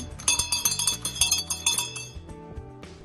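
A metal bell rings in quick, rhythmic clangs for about two seconds, then a few slower strikes let the tone ring out and fade.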